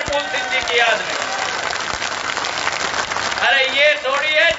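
Dense crowd clapping at an outdoor political rally in Raghogarh, a steady hiss of many hands that swells near the end, with a voice rising over it at times.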